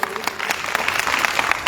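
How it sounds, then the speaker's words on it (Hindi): Loud applause from a school audience at an event at Janta Awadh Inter College in Ayodhya, honouring a female teacher; dense, steady clapping fills the short stretch with a few sharper claps standing out. "जोरदार ताली"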